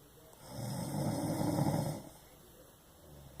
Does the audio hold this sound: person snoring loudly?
yes